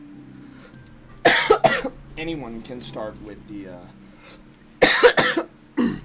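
A man coughs sharply twice, a cluster of harsh coughs, then speaks briefly, then another loud burst of coughing.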